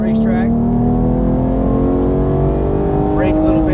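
Porsche GT3 engine pulling under throttle on a racetrack, a loud, steady in-car drone slowly rising in pitch, with brief bursts of coaching voice over it.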